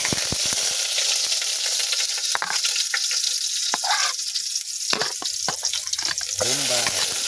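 Garlic sautés in a hot pan for squid adobo, a continuous loud sizzle broken by frequent sharp clicks and scrapes of a utensil stirring against the pan.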